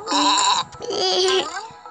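Two loud, wavering bleats from a sheep nearby, one after another with a brief pause between.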